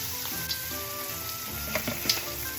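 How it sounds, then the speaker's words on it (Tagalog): Garlic, onion and tomato sizzle steadily in hot oil in a home kitchen, a constant crackling fry with a few louder spatters and stirring clicks, no voices. "nailagay ko na ang bawang sibuyas at kamatis"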